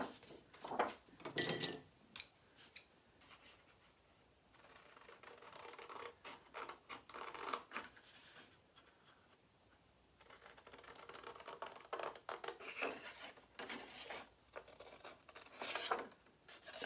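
Scissors snip and scratch through a traced paper shape on a crafting table, soft and close, in scattered short bursts separated by quiet pauses.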